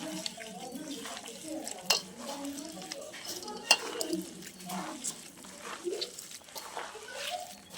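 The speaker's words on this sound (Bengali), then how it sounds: "এখন সব কিছু একলগে মিশিয়ে মাখিয়ে নেব" Hands mix jackfruit mash ingredients together in a bowl, giving soft, steady squishing and stirring with small scattered clinks against the bowl, fairly close and moderately quiet, with talking at times.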